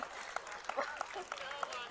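An audience claps through a brief stretch at a live Urdu-Hindi stage performance by a poet, the applause a faint broadband wash beneath a voice talking over it.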